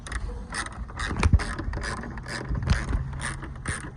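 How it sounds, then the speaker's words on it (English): Ratcheting and threaded fastener clicks while a part is screwed back on during an LED spoiler install on a Honda Civic, a steady run of close, small mechanical clicks and turns with no talk. "Screwing it back on."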